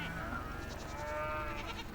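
Goats bleat in the Farm Manager 2018 farming video game, a few short faint cries over a low background hum.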